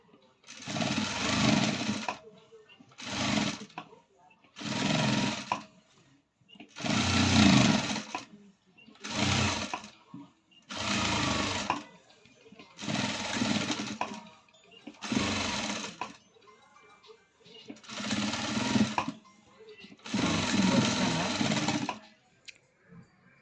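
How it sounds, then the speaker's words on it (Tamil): A sewing machine stitches a princess-cut blouse in repeated bursts of a few seconds each, about ten runs separated by short pauses, loud and close with no voices. "பிரின்சஸ் கட் ஸ்டிச்சிங் போட்டு முடிச்சாச்சுங்க"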